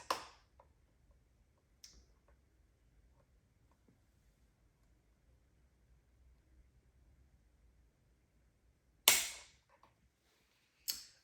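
Dry-fire trigger break of a Taurus TX22 pistol: a few isolated sharp clicks separated by long quiet gaps, the loudest two near the end, close and crisp.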